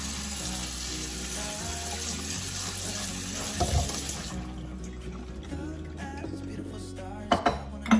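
Tap water runs steadily into a kitchen sink while produce is rinsed, the broad rush stopping halfway, followed by faint handling clatter and a few knocks near the end.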